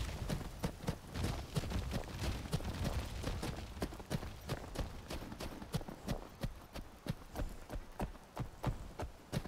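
A horse's hooves clop at a running gait while riding in the video game Skyrim, a steady, fairly quiet rhythmic beat that carries on throughout with no talk.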